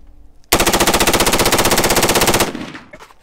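A short-barreled AR-15 rifle fires a single sustained full-auto burst of roughly forty rapid, evenly spaced, very loud shots lasting about two seconds, then echoes fade into quiet.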